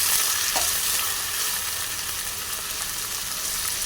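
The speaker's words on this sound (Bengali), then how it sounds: "এবার দিয়ে দেব গাজর কোচানো, দিয়ে দিলাম। এটাকে লাল করে ভেজে নেব।" Grated carrot sizzles loudly in hot oil in a pan for fried rice, a dense continuous frying hiss with stirring scrapes, close up and without talk.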